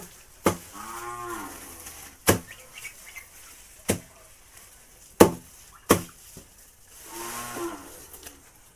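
A cow moos twice, low and drawn out, between sharp rhythmic knocks of a tree being chopped that ring out at irregular intervals.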